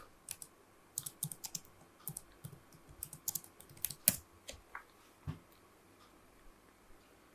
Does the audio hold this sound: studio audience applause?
no